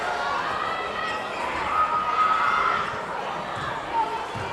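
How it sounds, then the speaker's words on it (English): A big crowd at a high school volleyball match, a steady loud roar of cheering and shouting voices filling the gym, with occasional whistle-like tones rising above the din. "can't talk enough about the nice crowd here tonight. Big crowd."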